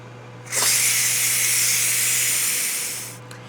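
Ninja Foodi pressure cooker holding only water or broth bursts into a loud, steady steam hiss while coming to pressure, holding for a few seconds before tapering off, with a low electrical hum underneath.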